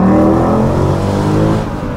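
Engine of a Mercedes C63 AMG, a wrecked example, pulling hard under acceleration, a loud, close, steady roar with a slightly rising pitch and no talking.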